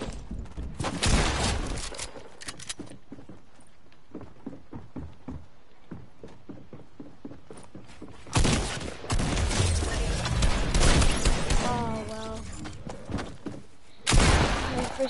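Video game gunfire in a solo duos match comes in bursts of rapid sharp shots, a dense volley at the start, scattered pops in the middle and heavier loud bursts toward the end, with some faint clinking between.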